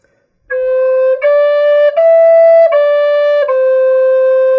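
A side-blown spirit flute plays a phrase of sustained notes, each one started with a small tongued break, so the tones sound separated yet steady, loud and close with no other sound.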